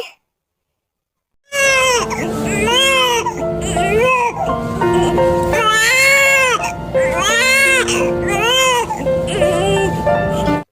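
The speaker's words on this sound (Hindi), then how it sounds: "ये रोने की आवाज है" A newborn baby cries loudly and close up in repeated wailing bursts, alone after a brief moment of silence at the start.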